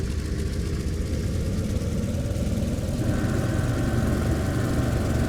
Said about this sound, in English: I had to rev the engine a little bit so the generator was providing a bit of power